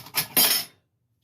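Yeast and sugar are mixed with a spatula or fork in a bowl for breadstick dough: two quick clinks and scrapes close by, over in under a second, then silence.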